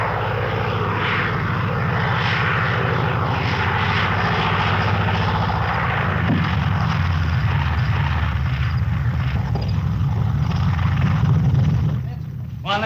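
A small propeller trainer aircraft's piston engine drones loud and steady close by during a first solo landing approach, holding a constant hum almost throughout before easing off near the end.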